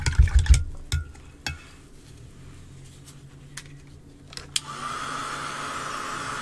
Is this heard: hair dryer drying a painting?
yes